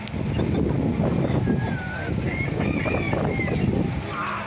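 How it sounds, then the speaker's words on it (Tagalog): Chickens cluck and a rooster's crow rises amid loud wind rumble and outdoor background noise. "Ang cute talaga ng mga manok ko."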